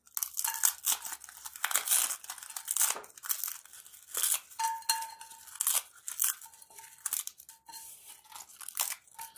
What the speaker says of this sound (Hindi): सबसे पहले हम तेज पत्ता लेंगे, पत्तों को हम जरा सा तोड़ के डालेंगे।